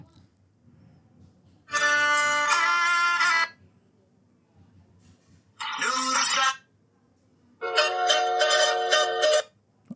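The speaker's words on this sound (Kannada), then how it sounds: "ನಾನು ಲವ್ ರಿಂಗ್ ಟೂನ್ ತಗೊತೀನಿ ಇಲ್ಲಿ ನೋಡ್ತಿರ್ಬೋದು ಸ್ನೇಹಿತರೆ ಒಂದು ಪ್ಲೇ ಮಾಡಿ ತೋರಿಸ್ತೀನಿ" A Kannada love ringtone plays from a mobile phone in three separate melodic bursts of a few seconds each, clear and close, with quiet pauses between them.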